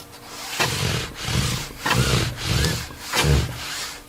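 A table saw blade cuts through wood on a miter sled in several repeated passes, each a harsh rasping burst with short pauses between, close and fairly loud with no speech.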